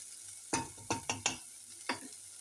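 Eggplant pieces frying in hot oil in a pan, giving a few short crackling sizzle bursts, four close together and one later, over a quiet background with no talking.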